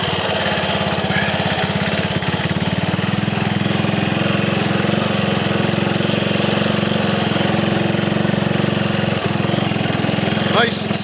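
A Triumph Tiger Cub motorcycle engine drones steadily and loudly throughout a sedate ride along local lanes on a sunny January afternoon, its low mechanical chug continuous with wind rush and no pauses.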